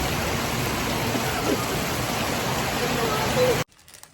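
Heavy rain pours down in a steady, dense hiss that fills the scene without a break, then cuts off abruptly just before the end.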